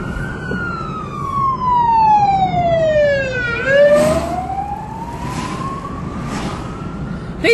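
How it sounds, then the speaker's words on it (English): A fire truck siren wails as it approaches a car on a road near Dorrigo, a loud descending then rising tone sweeping slowly, heard close and strong over steady traffic rumble, with brief sharper blasts toward the end. "I hear a siren."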